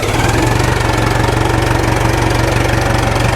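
A Gönen three-wheeled tractor's heavy engine runs at a steady idle nearby, its rapid, even thudding pulse loud and unbroken throughout.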